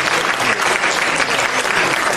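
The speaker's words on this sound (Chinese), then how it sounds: "看见了吗？ 鼓掌。" An audience at a Buddhist dharma assembly in Aarhus, Denmark, claps together in a dense, even round of applause that holds steady throughout.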